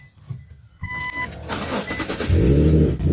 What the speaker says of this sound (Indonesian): Silakan, nyalakan mesinnya.